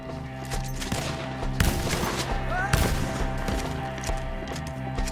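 Gunfire in the video game Red Dead Redemption 2 during a bounty hunt with enemies up in trees: scattered shots over a busy game soundscape with music, a couple of louder cracks standing out, and voices in the mix.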